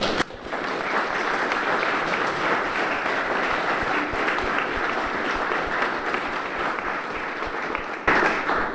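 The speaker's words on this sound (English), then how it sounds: "I think we ought to give them all a round of applause too" Audience applause at an event marking the 200th anniversary of the RNLI, a steady, dense round of clapping that fills the room for about eight seconds before cutting off abruptly.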